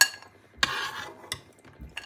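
Golden fried peanuts from a biryani preparation tipped into a metal bowl, giving a few sharp clinks and rattling scrapes in separate bursts, close and fairly loud, with no talking.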